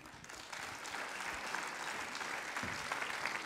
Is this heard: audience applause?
yes